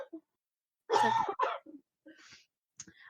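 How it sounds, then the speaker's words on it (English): A few short, breathy coughing bursts close up, separated by brief pauses, followed by quieter throaty sounds. "Excuse me, I'm gonna cough."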